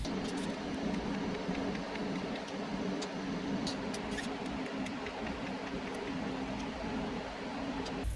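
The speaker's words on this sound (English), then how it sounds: "I'm going to throw a hot pass right over this weld right here" A hot pass is welded over a joint on a bicycle frame, chainstays meeting the bottom bracket shell, giving a continuous even buzzing crackle at moderate level with faint sharp ticks throughout and no voices.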